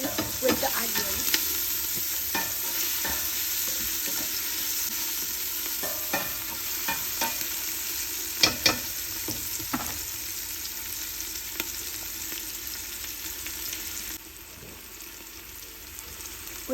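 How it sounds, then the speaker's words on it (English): Sliced onions frying with Maggi seasoning powder are stirred steadily in a hot pan for a courgette dish, with a constant close sizzle and scattered scraping knocks from the utensil; no one speaks. "we're just going to give that a good mix until the seasoning has mixed in with the onions"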